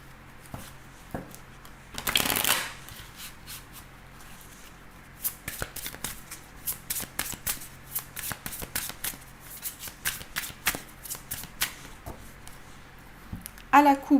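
Tarot cards riffled in a close shuffle, a dense burst early on, followed by irregular snaps and flicks as single cards are handled and laid down, with faint background hum.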